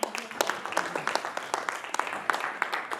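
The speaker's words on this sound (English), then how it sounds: "clap for her." Audience applause for a director at an academic conference, a quiet, continuous patter of many hands clapping at a distance, steady for several seconds with no voice on top.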